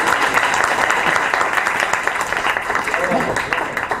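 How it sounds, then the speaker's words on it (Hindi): Sustained audience applause and clapping at a qawwali stage event, steady and fairly loud throughout, with some crowd noise mixed in. "आज हमारे साथ मोहसिन भाई आए हैं, आपकी भरपूर ताली ना हो।"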